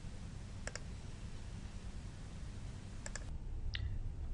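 Computer mouse clicks at a desk: a quick double click near the start, another pair about two seconds later, then a single lighter click, each crisp and close over a steady low hum.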